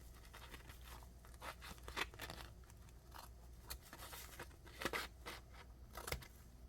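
Scissors cutting through recycled paper pages of a small handmade journal, a series of quiet crisp snips and rustles repeating irregularly up close.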